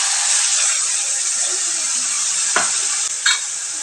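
Spices frying in hot oil for Bengali doi potol, a loud continuous sizzle with a couple of brief stirring scrapes near the end.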